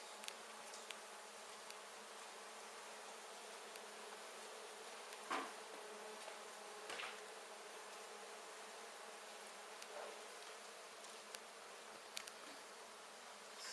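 Honey bees swarming around an exposed hive of fresh white comb inside a wall in McAllen, Texas, a steady, faint, continuous buzzing drone with occasional nearer passes and no talk.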